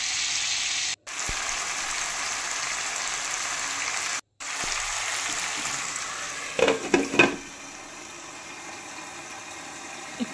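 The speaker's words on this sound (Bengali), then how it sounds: "তারপর আলুগুলো একটু ভাজা ভাজা করে নেব।" Potatoes fry in olive oil with turmeric and salt, a steady close broadband sizzle that runs throughout, broken by two brief drops to silence and a few stirring clatters near the end.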